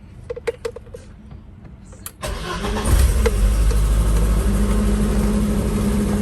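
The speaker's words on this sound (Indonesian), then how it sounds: "Kita coba nyalain mobilnya." A 1991 BMW E30 engine cranks and catches at about two seconds, then settles into a steady, loud idle. A few light clicks come before it starts.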